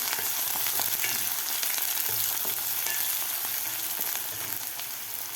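Finely chopped medium onion sautéing in hot oil in a pan, a steady bright sizzle with occasional scraping stirs, close and continuous with no talking over it.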